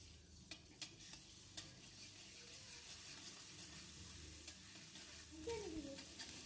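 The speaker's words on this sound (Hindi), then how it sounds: "इसमें हम डालेंगे अदरक लहसुन का पेस्ट 1 टीस्पून और इसको सौटे करेंगे।" Ginger garlic paste sautés in hot oil in a kadhai, giving a soft, steady background sizzle with occasional light stirring clicks and scrapes, quiet and without any talk.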